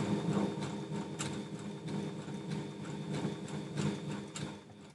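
Sewing machine stitching fabric lining for handpaws, a steady quiet mechanical whir with faint regular clicks, close and alone.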